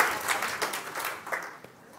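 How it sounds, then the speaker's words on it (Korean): A congregation at a Sunday church service claps for the pastor, a short burst of scattered, uneven applause that thins out toward the end. "aplauso de agradecimiento al pastor,"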